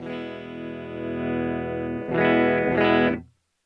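A clean electric tone rings from an 80s pink Yamaha guitar with humbuckers, a sustained chord followed by two quick strums that stop abruptly.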